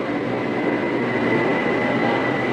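A metro train pulls into Sala Daeng station in Bangkok, a steady close rumble of rolling wheels and motors with faint high squeal, continuous and loud without pause.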